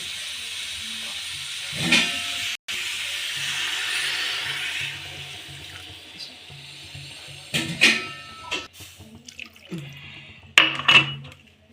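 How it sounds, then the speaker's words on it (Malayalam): Water being poured into a pot of chicken biryani gives a steady hiss and rush lasting several seconds, followed by a few louder splashing bursts near the end. "കുറച്ച് വെള്ളം ഒഴിച്ച്"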